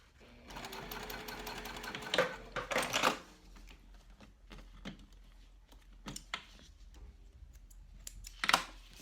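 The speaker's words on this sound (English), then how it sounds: "And then stitch down either side." A sewing machine runs in quick bursts stitching down either side of a bag strap seam, close rapid mechanical clatter with pauses, clicks and fabric handling between runs.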